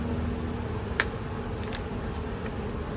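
Honey bees drone in a steady, close buzz throughout a hive inspection, with a couple of faint clicks from handling the frames.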